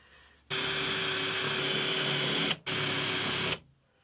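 A power drill whirs loudly countersinking a hole in two bursts, a long run then a brief pause and a shorter one, close by with a high grinding whine.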